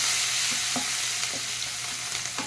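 A turmeric, salt and coriander mixture is stirred in a hot pan: a constant sizzle with a few light scraping strokes of the spoon at regular intervals.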